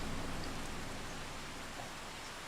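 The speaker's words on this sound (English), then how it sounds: "I can't hear you very well over the bloody rain." Steady, dense rain hisses in the Farming Simulator 25 video game, a constant wash of noise with no breaks and no voices.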